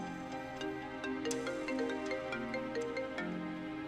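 A phone ringtone plays steadily, a bright melodic electronic tune with repeating tonal notes and no voices.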